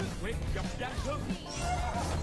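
A horse neighing in the mobile game Arena of Valor, a few short whinnies over game effects and a continuous voice talking over the top.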